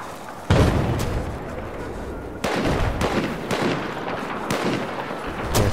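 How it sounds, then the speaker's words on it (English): Gunfire and explosive booms in Battlefield 4 hardcore mode on PS4, loud sharp onsets at about half-second and two-and-a-half seconds, with repeated shots and rumbling blasts continuing throughout. "There's somebody firing from over here."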